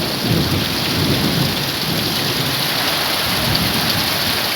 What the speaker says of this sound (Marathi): कोकणातला पहिला पाऊस म्हणजे मुसळधार पाऊस आज पडतोय.